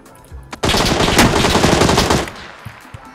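In a video game, a burst of rapid automatic gunfire rattles loudly for about a second and a half, followed by a few faint, scattered shots.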